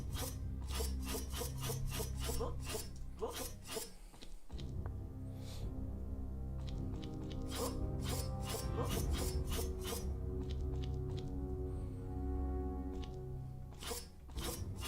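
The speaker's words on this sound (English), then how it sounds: "Oh, I can cut the grass now." Grass being cut in a video game: a steady run of quick, rasping swishes in an even rhythm, close and fairly loud, with a short break partway through and no talking.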